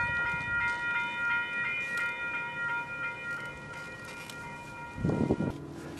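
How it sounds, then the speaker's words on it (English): A train rolls past a crossing with a steady rumble and a ringing crossing bell that sustains throughout, heard from nearby, with a brief louder clunk near the end and no talking. "I have a feeling that that train is going to take a while."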